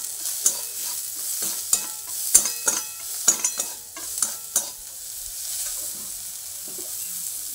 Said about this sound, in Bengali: দিয়ে দেবো পেঁয়াজ আর এই যে চেরা কাঁচা লঙ্কা